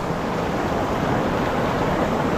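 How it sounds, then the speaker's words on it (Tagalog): Strong river or stream current rushing steadily, a loud continuous broadband wash of flowing water that fills the clip without a break and with no voices. "Lakas ng tubig oh."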